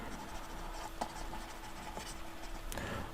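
Writing during a maths lesson on solving a combined system of equations, with a steady faint scratch of the writing tool and a few light taps, at close range, with no talking.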